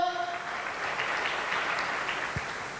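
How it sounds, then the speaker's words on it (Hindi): Audience applause at a Hindi-language network marketing gathering, a dense, steady clapping wash at modest volume that follows a brief fading tone at the start and carries on evenly to the end. "जोरदार तालियां दोस्तों"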